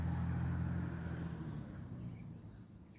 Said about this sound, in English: I'm pretty sure that truck drowned it out.